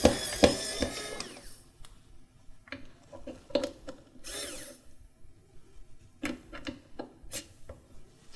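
A Xiaomi Wowstick P1+ electronic screwdriver drives screws, a loud whirring burst at the start followed by short, intermittent motor whines and small clicks separated by quiet gaps, close up.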